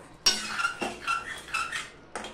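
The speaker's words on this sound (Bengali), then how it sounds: "দিয়ে ঘিটা আমি মিশিয়ে দিচ্ছি।" A spoon clinks and scrapes against a pan while ghee is stirred into a raw banana curry, giving four or five close, bright metallic taps at a gentle, uneven pace.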